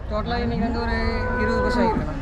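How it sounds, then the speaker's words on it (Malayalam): Cattle low and moo at the Erode cattle market, drawn-out calls close by against a constant background of market bustle, with people talking. "നമ്മുടെ ബാക്കിൽ പശുക്കളല്ലണ?"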